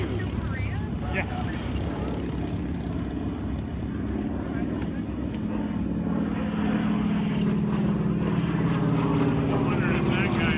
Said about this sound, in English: there's a MiG-15